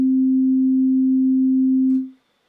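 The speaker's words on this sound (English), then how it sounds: "So there we can see a representation of the waveform, the sine wave." A steady, pure sine wave test tone holds one low-mid pitch at constant loudness for about two seconds, then fades out quickly and leaves near silence.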